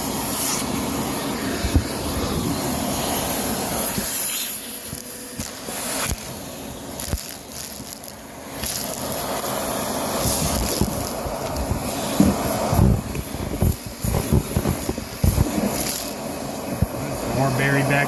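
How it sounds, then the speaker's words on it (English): A vacuum cleaner roars steadily inside a 2004 Lincoln Navigator as it sucks up broken glass, with scattered crisp clicks and rattles of shards under the loud, continuous close-up hiss. "I'll do a little video of the glass going to the vacuum, because that is a very satisfying sound"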